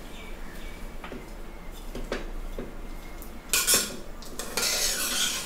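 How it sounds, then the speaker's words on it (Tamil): Rice and meal maker for coconut milk rice being stirred together in a pot, with scattered scrapes and clinks of a spoon against metal, then louder bursts of scraping and mixing toward the end. "நல்லா மிக்ஸ் பண்ணி விட்டுடலாம்."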